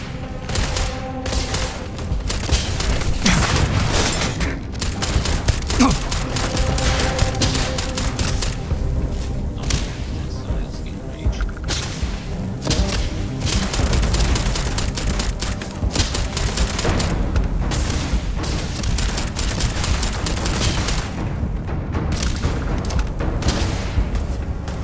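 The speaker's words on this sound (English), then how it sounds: "Opening fire." Continuous heavy gunfire in the space combat game Starfield, dense rapid shots and booming impacts going on without letup, loud and close throughout.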